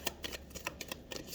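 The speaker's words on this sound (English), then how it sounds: "One more shuffle." Tarot cards are riffled and shuffled by hand in a quick run of crisp, close flutters and snaps, about half a dozen bursts in a row with no talking.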